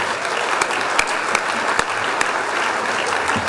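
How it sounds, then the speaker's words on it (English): Steady applause from a banquet audience at a university awards dinner, dense and continuous with a few sharper claps popping out, moderately loud and close, with no voices over it. "let's give another warm round of applause for our 2013 Young Alumni Achievement and Sioux Award recipients"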